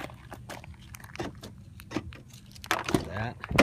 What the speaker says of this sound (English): Here are your keys with a remote.